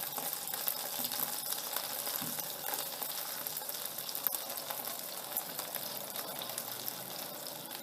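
Chicken cheese rolls frying in a pan over a low-medium flame, a soft, steady sizzle with faint crackles, quiet and continuous with no voices.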